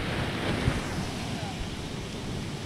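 A river swollen by heavy rain in Apatzingán rushes in a steady, broadband roar with wind buffeting the microphone, continuous and loud with no pauses.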